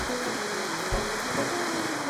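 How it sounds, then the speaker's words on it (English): A big creek in the Smoky Mountains rushing over giant rocks, a steady broadband roar of flowing water, close and continuous with no pauses. "a big flowing creek with giant rocks"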